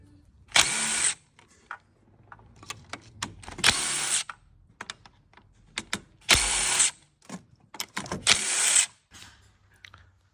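Ratchet wrench working nuts and bolts on a Vauxhall 1.6D diesel engine during timing chain work, several loud close bursts of rapid clicking separated by short pauses and quieter handling noises.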